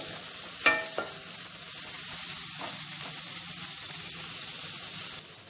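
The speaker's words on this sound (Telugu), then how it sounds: "ఫస్ట్ వీటిని లైట్గా ఫ్రై చేసుకుందామండి" Onions fry lightly in a pan with a steady, gentle sizzle throughout, opened by a couple of quick utensil clicks against the metal.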